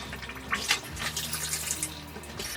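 Bleach and water poured into a bathroom fixture during household cleaning, a steady close liquid trickle and splash running throughout with a low hum underneath.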